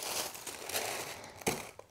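Tissue paper crinkles and rustles continuously as suede boots are unboxed, a soft papery texture throughout with one sharper crisp crunch near the end, close and fairly quiet.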